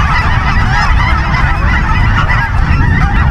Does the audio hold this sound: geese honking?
yes